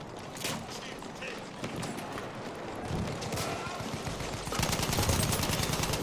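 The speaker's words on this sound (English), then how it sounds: "Enemy machine gun over there." An enemy machine gun firing in the Battlefield 1 video game, steady rapid gunfire that grows louder and denser toward the end, mixed with other battle noise while commentators talk over it.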